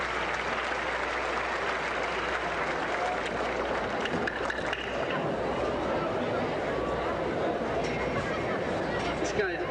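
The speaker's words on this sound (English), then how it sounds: "how about a consolation round of applause for Rope Myers?" Rodeo grandstand crowd applauding for a competitor, a broad wash of clapping mixed with murmuring chatter throughout, heard from within the stands at moderate distance.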